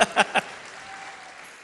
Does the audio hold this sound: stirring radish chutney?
no